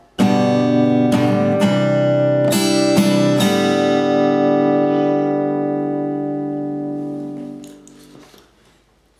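Acoustic-style guitar strumming pattern, a few sharp down and up strokes on chords ringing out and slowly decaying to silence, played alone and close.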